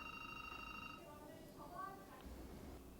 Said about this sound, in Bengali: ফোন বাজছে, রিসিভ করার কেউ নেই